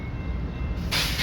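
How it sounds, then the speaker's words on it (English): A freight train hauling empty Boeing aircraft fuselage cars toward Wichita, Kansas, gives off a brief, steady low rumble with a rising hiss near the end. "this train is going down to St. Joseph Sub on its way to Wichita, Kansas. This is the Boeing aircraft train."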